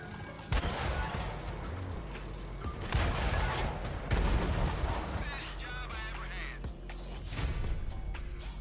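Video game gunfire comes in repeated loud bursts and booming shots against clanking mechanical noise, with a voice speaking between the volleys.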